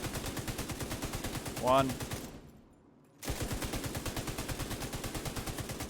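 Rapid sustained bursts of MG5 light machine gun fire in The Division 2 video game, loud and dense, broken by a brief pause around midway and a short rising shot sound, with a voice counting briefly over it.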